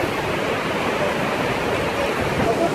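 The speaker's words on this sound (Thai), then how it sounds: "อันนี้เป็นน้ำตก" Steady broadband rush of falling water, like a waterfall heard from close by in Flåm, Norway, with faint voices mixed into the roar.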